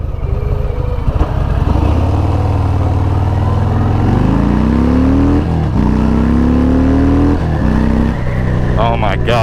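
Harley-Davidson Fat Bob motorcycle engine on a test ride, a loping V-twin rumble that climbs and settles through several rising revs, loud and close with wind noise and someone talking over it.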